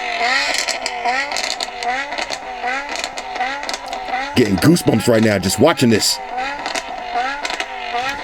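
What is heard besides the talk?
car exhaust revving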